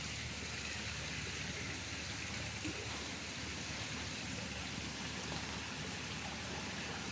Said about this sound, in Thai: มีน้ำตกนะครับ